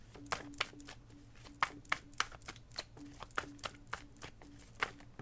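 Tarot cards being shuffled by hand, a run of sharp crisp riffling bursts and soft slaps repeating irregularly at close range over a quiet low hum, with no talking.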